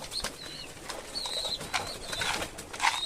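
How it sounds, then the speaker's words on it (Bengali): Pet pigeons cooing close by in a loft, soft throaty calls repeating irregularly over a quiet background, with a faint rustle of wings now and then. "কবুতর আমার খুব ভালো লাগে"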